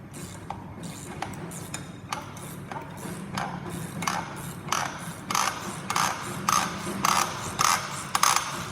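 Ratcheting wrench turning a nut on a power steering pulley, a steady series of sharp mechanical clicks that grow louder and quicker toward the end, close up with no talking.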